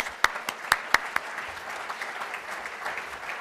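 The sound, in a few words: applause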